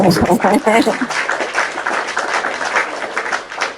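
Crowd applause swells into a dense, steady patter of clapping, with a voice speaking over it at the start.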